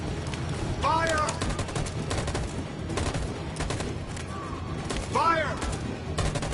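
Rapid gunfire from soldiers in the video game Detroit, dense bursts of shots running throughout under shouted voices and game sounds.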